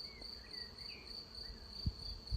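A freshly arrived swarm of honeybees hums around a tree during swarming season, a faint continuous buzz heard alone, steady throughout the short outdoor moment with a couple of soft low bumps.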